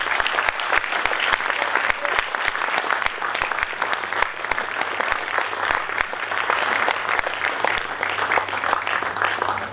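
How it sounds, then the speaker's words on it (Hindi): Sustained audience applause at a Hindi kavi sammelan (poetry recital), dense steady clapping from a large crowd filling the whole stretch at even loudness, with no voices standing out. "आपके जोरदार तालियों के बीच में मैं आवाज देना चाहूँगा"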